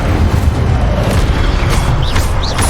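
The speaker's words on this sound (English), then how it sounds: "Incendio!" Incendio fire spell cast in the video game Hogwarts Legacy, a loud, sustained roaring whoosh of flames with deep rumbling booms and a couple of brief rising sparkle tones near the end.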